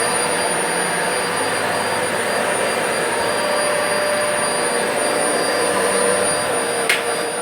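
Electrolux Versatility upright vacuum cleaner running steadily up close, a constant loud whirring motor drone with high tonal whine and no talk, a brief click near the end.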